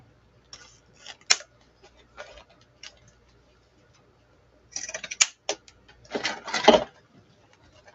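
Short snips and clicks from trimming wooden snowflake door hanger pieces come in irregular bursts, close and crisp, with quiet pauses between clusters of cuts.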